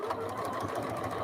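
A sewing machine stitches a quilt edge that has been folded down, running steadily and continuously at close range for the whole moment with a rapid mechanical hum and patter.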